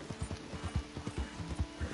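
Horse hooves in Red Dead Redemption 2 clip-clop in a steady rhythmic gait, about eight soft thuds in two seconds, set against quiet game ambience.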